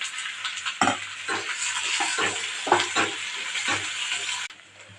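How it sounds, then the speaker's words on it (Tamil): Sliced onions and green chillies sautéing in a pan make a steady, close sizzle with rhythmic stirring scrapes throughout, then the sizzle drops away abruptly near the end. "பச்சை மிளகாயும் கூடவே நம்ம சேர்த்து இதை நல்லா வதக்கி விட்டுக்கலாம்."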